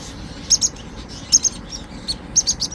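Hungry hand-fed baby birds chirp in quick high bursts, a few calls at a time with short gaps between, fairly soft against a quiet background and with no talking.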